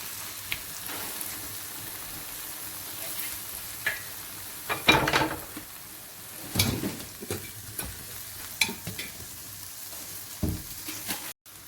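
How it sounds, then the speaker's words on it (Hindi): Tomatoes and red capsicum sizzle and fry in a pan for shakshuka, with several louder scraping stirs of a spoon through the mixture around the middle of the clip. No one speaks. "अब इसमें हम डाल देते हैं अपने रेड कैप्सिकम। इसे भी मिक्स करेंगे।"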